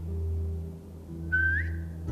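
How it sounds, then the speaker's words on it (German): In The Walking Dead video game, a character whistles a command to a dog: a single short rising whistle over a low ambient hum, with no talking. "Jetzt pfeif und befiehl ihr, Platz zu machen."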